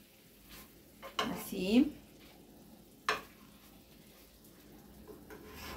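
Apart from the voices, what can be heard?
chicken breast with honey frying in a pan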